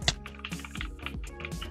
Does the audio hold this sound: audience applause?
no